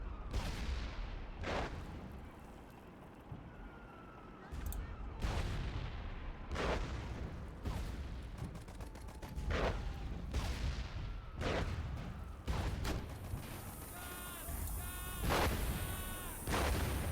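Heavy anti-tank rounds fire in a tank-spam video game battle, with about a dozen sharp booming shots spaced irregularly over a quiet ambient background, plus a burst of faster chattering shots near the end.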